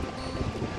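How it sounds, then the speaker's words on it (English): Strong wind at high altitude on the Tahoe Rim Trail roars steadily against the microphone in a brief, loud, broadband rush. "It's very windy up here."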